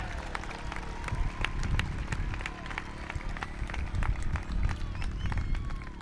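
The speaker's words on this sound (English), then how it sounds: "Families and guests, please join me in giving these remarkable, involved scholars a well-deserved round of applause" A graduation ceremony audience of families and guests giving a round of applause, dense clapping with crowd murmur and scattered sharp claps, sustained and fairly close.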